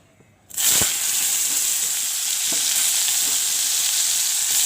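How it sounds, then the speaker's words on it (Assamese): Sliced raw banana dropped into a pan with a little oil, starting with a sudden loud sizzle that settles into a steady close frying hiss, alone without talk. "এইখিনি তেলতে মই এতিয়া পুনৰ কাটি থোৱা কাচকলখিনি ভাজিব লাগিব"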